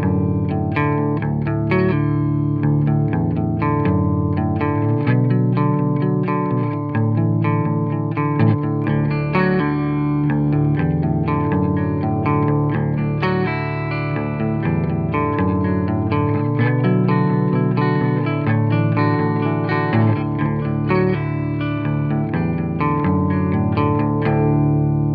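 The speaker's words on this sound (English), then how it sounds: "Here I've just played a little picking part. I actually put another guitar doing a little lead line over the top with the exact same tone," Clean electric guitar through a tube amp, a steady picked pattern layered with a second guitar playing a lead line over it, continuous and full with a slight chorus-like shimmer, no voices.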